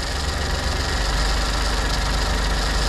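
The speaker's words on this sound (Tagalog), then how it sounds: "confirm sira na talaga yung tensioner bearing natin" A Suzuki DE64V minivan engine idles steadily while its failing tensioner bearing adds a continuous rough whir and knocking rattle, close and constant throughout.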